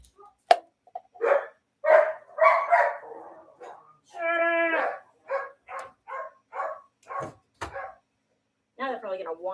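Several dogs bark indoors in loud, repeated bursts with a drawn-out whine or howl in the middle, while a person speaks over and between the barks.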